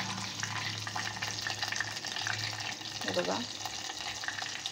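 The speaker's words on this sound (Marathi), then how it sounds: "बाकीचे पण अशाच प्रकारे तळून घेऊया" Chicken 65 pieces deep frying in oil, a steady close bubbling sizzle with some clinks and handling noise, while a voice briefly speaks over it.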